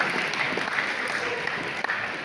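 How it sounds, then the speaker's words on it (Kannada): An audience at the Havyaka Pratishthana Sambhrama 2025 cultural celebration claps, producing a steady, dense wash of many hands applauding together throughout. "ಜೋರದ ಚಪ್ಪಾಳೆಯೊಂದಿಗೆ ಸಾಂಸ್ಕೃತಿಕ ಕಾರ್ಯಕ್ರಮಗಳನ್ನು ಶುರು ಮಾಡಬಹುದು"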